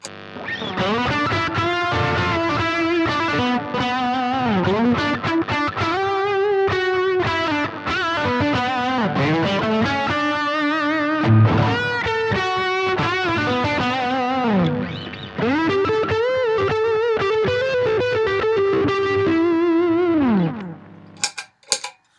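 A distorted electric guitar through an amp's lead channel plays a sustained, singing lead line with bends and vibrato, thick with effects, running nearly continuously before cutting off abruptly.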